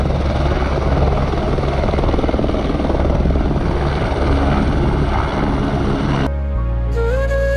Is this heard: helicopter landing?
yes